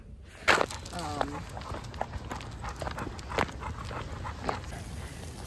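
A dog out on an afternoon walk: a short bark near the start, then footsteps and steady outdoor background noise, moderately quiet.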